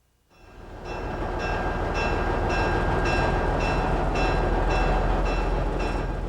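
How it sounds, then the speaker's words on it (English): A Pine Creek Railroad narrow-gauge train on three-foot track at Allaire park near Farmingdale, New Jersey, rumbles past steadily after a quick start. Its wheels click in a regular rhythm, loud and close, with no voices. "The Pine Creek Railroad operating in the park runs on narrow gauge track just 3 feet apart"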